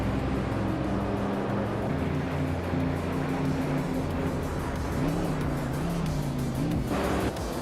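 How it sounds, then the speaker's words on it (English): A 1972 Ford Falcon XB GT muscle car races in a video game, its engine droning steadily with shifting pitch as revs rise and fall, loud and continuous alongside other cars on track. "Amundsen's driving a 1972 Ford Falcon XB GT, known for its muscle car heritage and raw power."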